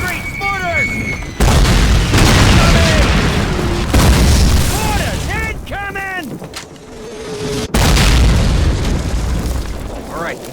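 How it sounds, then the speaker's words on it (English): Incoming mortar shells explode in a World War II shooter, Call of Duty, on PC: several heavy booms land amid battlefield noise, whistling and shouted voices, loud and close. "Mortars incoming!"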